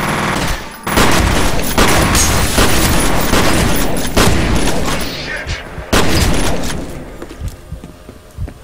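Rapid, loud gunfire in the first-person shooter F.E.A.R., with dense bursts of shots and booming impacts that fade toward the end.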